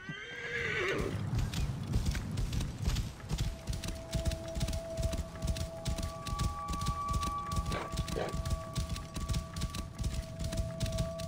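A summoned horse in Assassin's Creed Origins neighs loudly at the start, then gallops in a fast steady clip-clop of hooves that continues throughout, close and prominent, with faint game sounds underneath.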